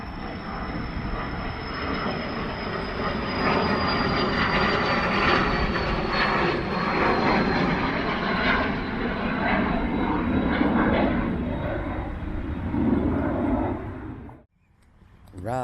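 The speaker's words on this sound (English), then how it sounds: "I hear another plane." A propeller or jet airplane passes overhead above Indian Mounds Park in St. Paul, Minnesota: a long, loud, broad engine roar with a slowly falling whine that holds for about fourteen seconds, then fades abruptly.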